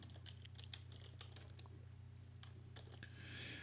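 C++ code being typed on a computer keyboard, rapid irregular key clicks close up and faint, pausing briefly before a final burst of keystrokes.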